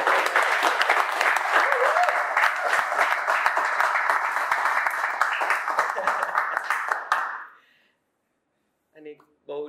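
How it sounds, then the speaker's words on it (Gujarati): A studio audience claps in a dense, steady round of applause that fades out near the end, followed by silence and then a few faint sounds. "એક વખત અમારા માટે તાળીઓ પાડો"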